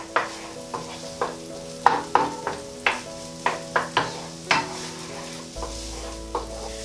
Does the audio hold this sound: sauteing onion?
yes